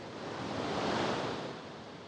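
Sea waves wash against the Canary Islands coast at the edge of a national park, a steady broadband surf rush that swells to a peak midway and then eases slightly, heard alone with no voices.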